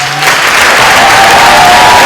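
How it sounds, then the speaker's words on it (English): An audience applauds a panel at a discussion event, a loud, dense round of clapping that holds steady throughout. "can we give one more big round of applause for our"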